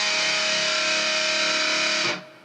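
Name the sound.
electric guitar played with distortion effect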